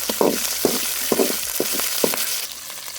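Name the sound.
green chillies sizzling in hot oil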